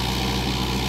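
A 575 tractor engine running with a rotavator gives a steady, loud, low mechanical rumble that holds even through the brief moment.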